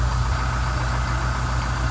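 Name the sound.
Scenicruiser bus engine fired up and idling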